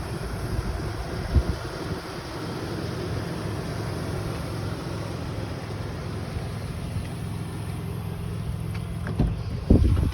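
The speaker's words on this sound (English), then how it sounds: "Vehicle is running." A 2003 Toyota Tacoma double cab idles, a steady low engine rumble with wind buffeting the microphone and a couple of brief knocks and bumps nearby.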